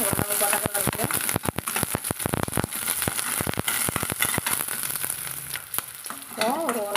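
Green chillies sauté in hot oil for a ridge gourd milk curry, with a loud steady sizzle broken by frequent sharp spatula scrapes and clacks against the pan, and a brief voice near the end.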